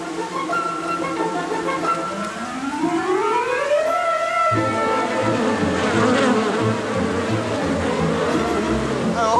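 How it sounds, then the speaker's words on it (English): A swarm of bees from a massive beehive on the back of a car buzzes loudly and close, a dense droning hum that rises in pitch and then holds steady over a low engine-like rumble. "you've got a massive beehive on the back of it"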